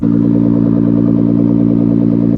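Steady, loud exhaust drone from a 2017 Nissan GT-R, a constant low rumble held evenly for a couple of seconds with a slight clatter, no talk over it.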